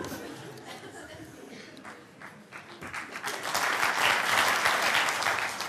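Audience at a live comedy show claps, starting as scattered hands under faint chatter and laughter and swelling into full, steady applause toward the end.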